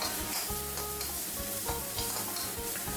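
Sliced fingerroot being stir-fried with red curry paste in a pan: a constant close sizzle broken by repeated scraping and tapping strokes of the spatula, with no talking.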